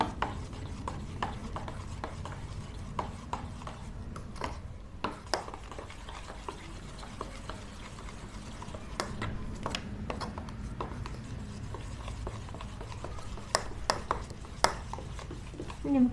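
A spoon or spatula folding sifted dry ingredients into plum cake batter in a bowl, soft continuous rubbing and scraping with scattered small taps against the bowl, close and fairly quiet.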